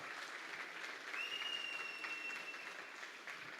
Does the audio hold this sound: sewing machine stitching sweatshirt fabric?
no